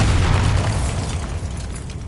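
Bombarda spell blast in a Harry Potter video game: a loud, dense boom that hits at once and slowly decays into a broad rumbling wash.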